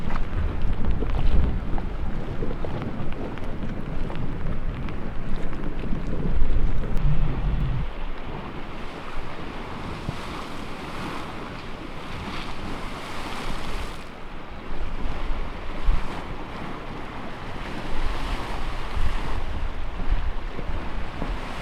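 A small geyser erupts beside the Firehole River in Yellowstone, a steady rushing, hissing roar of water and spray, loud and close throughout, mixed with wind buffeting the microphone.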